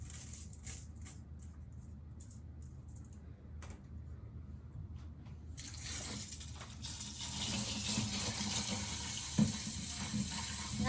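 Water runs from a kitchen tap while rice is rinsed for cooking the Japanese way, a soft steady background at first that swells into a louder, close gushing stream, with faint clicks and taps throughout.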